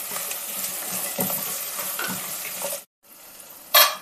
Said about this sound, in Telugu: ఈ బఠానీ కూడా ఉడకబెట్టాను, అయినా కూడా కొంచెం దీంట్లో వేసేసుకుంటే వేగినట్టుగా ఉంటాయి కదా